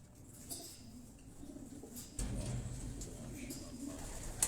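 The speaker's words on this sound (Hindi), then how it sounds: "ये बेबी पिजन, ये 2 कली का बच्चा है" Racing pigeons coo at Tanveer Hussain's loft in Quetta, low soft calls that grow fuller midway and continue steadily, fairly close.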